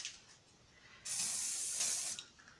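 Silicone spray hisses from a can onto wet acrylic paint in a single burst of about one second, close and fairly loud, after a faint quiet lead-in.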